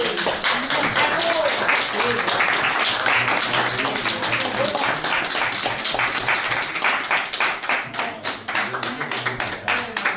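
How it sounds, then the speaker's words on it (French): Audience at a 40th-anniversary Christmas party for an esoteric society claps steadily for a person being honoured, with dense, continuous clapping and voices mixed in underneath throughout. "Il mérite une bonne main d'applaudissements, Aleph."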